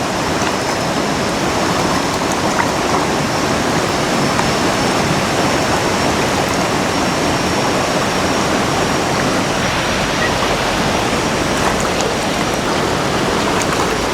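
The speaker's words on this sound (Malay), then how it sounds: "Air ni pun air mengalir laju" Fast-flowing river water rushes steadily at an outdoor cooking spot by a stream at Ulu Yam, where onions and leaves are washed directly in the current; a loud, continuous broadband wash with no talk.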